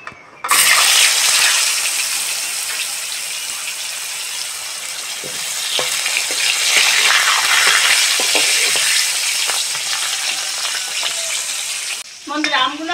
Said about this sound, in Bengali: বন্ধুরা ওই তেলের মধ্যে এই আমগুলো ভেজে নেব।